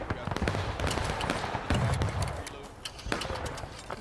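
Muskets fire in a ragged volley at a Civil War reenactment skirmish, the sharp outdoor cracks scattered and spread over several seconds and heard from a moderate distance, with people talking in between.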